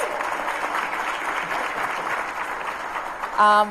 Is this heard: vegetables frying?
no